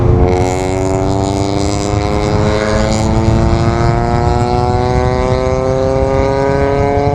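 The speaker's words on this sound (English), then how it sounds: "Why would you want to make your car sound like it has an exhaust leak?" Acura car with a loud modified exhaust, droning steadily and close with a strong rising harmonic tone, like a raspy engine note sounding as if it had an exhaust leak, continuous throughout with no talk.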